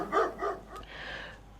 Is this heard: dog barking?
yes